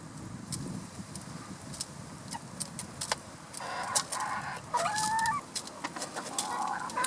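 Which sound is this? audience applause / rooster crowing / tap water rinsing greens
rooster crowing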